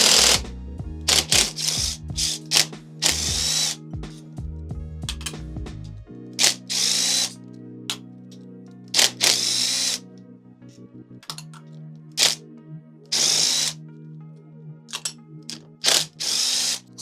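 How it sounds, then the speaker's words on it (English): Impact driver rattling out 8mm clutch cover bolts on a CFMoto Ibex 450 motorcycle, a series of short, sharp hammering bursts with pauses between bolts, loud and close with no talk. "Use my impact. This is going to be the 8mm. Just go all the way around."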